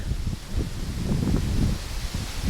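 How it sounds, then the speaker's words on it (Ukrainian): Gusty wind rushes and buffets loudly across a vegetable garden, with rustling leaves and rumbling noise against the microphone. "О, щось сильний вітер піднявся."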